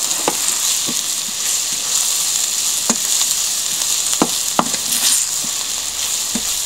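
Meat sizzles steadily as it fries in a pan, and spoon scrapes and taps sound at irregular intervals over the constant hiss. No voices.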